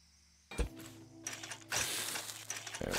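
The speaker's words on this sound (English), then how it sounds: "Like this, and then weld this bad boy up." The weld tool in Scrap Mechanic joins parts of a piston bucket build, giving a short burst of clicking, ratchet-like mechanical whirring that starts with a sharp knock and swells to a louder, steady buzz, heard alone.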